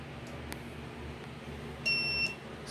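A robot's distance-sensor buzzer sounds one steady electronic beep lasting under half a second, cutting in over a low background hum, with no talking.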